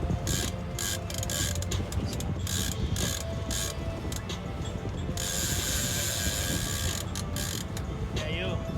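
Fishing reel drag buzzing and clicking steadily as a hooked fish pulls line offshore, a continuous ratcheting run.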